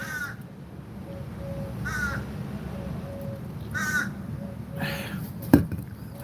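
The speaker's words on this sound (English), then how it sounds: "these crows are just caw. You hear them?" Crows caw outdoors in short harsh bursts of two or three calls, repeated about every two seconds at moderate distance over a low background rumble, with a sharp knock near the end.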